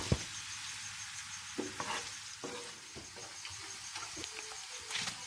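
Finely chopped onions fry in hot oil in a pan, giving a steady sizzle with scattered stirring clicks and scrapes for several seconds. Nobody speaks.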